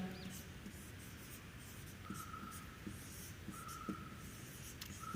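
Pen or marker writing on a board during an electrostatics lesson, with quiet scratchy strokes over a steady room hiss and faint, sparse tapping and squeaks.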